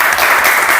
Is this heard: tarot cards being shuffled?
no